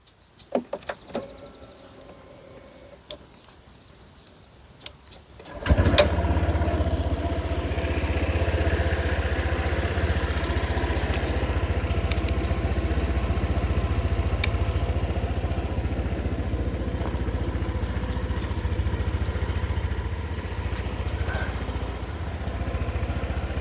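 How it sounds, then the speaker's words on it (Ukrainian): A Honda PCX150 scooter engine idles steadily after a few seconds of quiet clicks and handling, a constant low rumble that holds close and even to the end. "Двигун працює без жодних нарікань."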